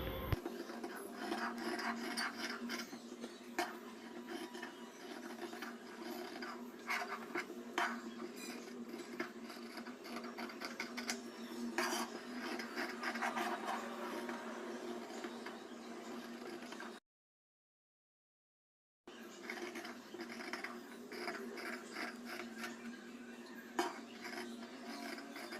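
Scissors cutting fabric for a princess-cut, boat-neck blouse, a quiet close rasping and scratching with repeated snips, broken by a brief silence near the end.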